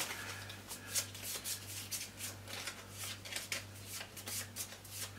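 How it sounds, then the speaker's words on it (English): A deck of playing cards is shuffled repeatedly during a Star Saga tabletop board game session, giving soft, rapid riffling bursts in an uneven rhythm, close and fairly quiet over a steady low hum. "Shuffle, shuffle, shuffle, put back on top"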